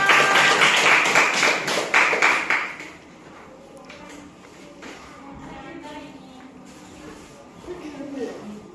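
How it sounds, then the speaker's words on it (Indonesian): A classroom group applauds after student presentations, a burst of brisk clapping for about three seconds that stops abruptly, followed by quieter room noise and faint voices. "Kasih tepuk tangan untuk kita semua."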